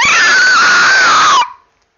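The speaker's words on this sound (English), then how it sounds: "A great primal scream." A loud, raw primal scream from a single voice, sustained at full strength for about one and a half seconds and then cut off abruptly into silence.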